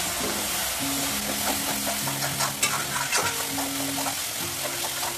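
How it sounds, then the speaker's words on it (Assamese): Ground cumin, coriander and chili powder fry in hot oil with a strong, continuous sizzle and stirring scrapes up close, while faint melodic tones run underneath. "জিৰা আৰু ধনিয়া জলকীয়া গুড়ি কৰি ল'লোঁ। এটা তেলত দি দিছোঁ।"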